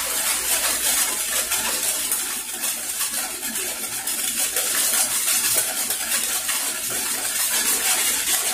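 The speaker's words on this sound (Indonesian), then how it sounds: "Saya aduk terlebih dahulu biar tercampur rata." A spoon scraping and clinking around a pot as mango juice is stirred with sugar, steady and close, with no one speaking.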